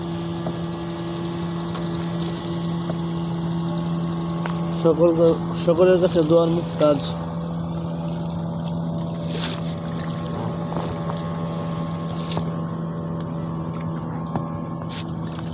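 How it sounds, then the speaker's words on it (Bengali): A speedboat passes on the Titas river near Narsinghpur, heard from a small boat as a steady engine drone with a constant hum, while someone talks briefly in the middle. "সামনে স্পিড বোট আসতেছে"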